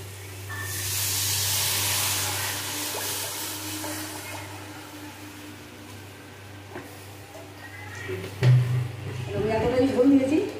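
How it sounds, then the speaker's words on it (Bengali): Broth poured into fried, oil-releasing spice paste for a pangas and tangra fish curry, a loud steamy hiss that fades to a low simmer, with someone talking over the cooking. "এখন পরিমাণ মতন ঝোল দিয়ে দেবো"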